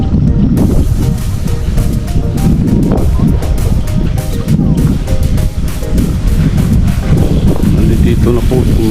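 Strong wind roars and buffets the microphone nonstop across a rice field, with gusts swelling and easing in a loud, rough rumble.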